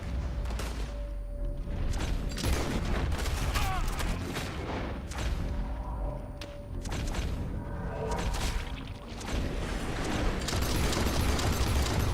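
Rapid gunfire rings out while animals are shot in Red Dead Redemption 2, dense bursts of sharp shots and booms with mechanical clicks, loud and close, running almost nonstop with faint background voice.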